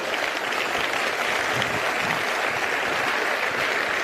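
Steady, dense applause from a conference audience at a regional economic forum, loud and continuous throughout with no pauses, filling the room with no voices on top.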